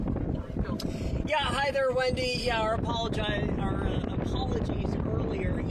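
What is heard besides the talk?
wind noise on outdoor reporter microphone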